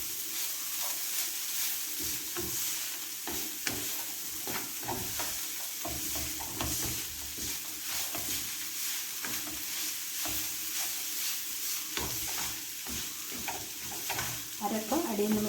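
Cooked jackfruit and ground coconut paste are stirred in a pan for thoran, with a continuous sizzle broken by repeated scraping strokes of the spoon, close and fairly even throughout.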